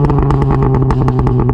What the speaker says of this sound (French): Là t'entends bien le turbo en fait.